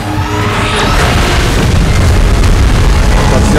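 A loud, sustained roaring blast from a beam attack in a Godzilla versus Kong and Mechagodzilla video game, a heavy rumbling explosion that fills the whole moment.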